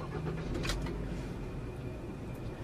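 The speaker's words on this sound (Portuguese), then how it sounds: "Só de girar a chave eu já vi que o motor tá mais macio, assim." A 2014 Honda Civic 2.0 started with the key: a brief crank and catch around the first second, then a smooth, low engine idle, close and continuous, with no talking.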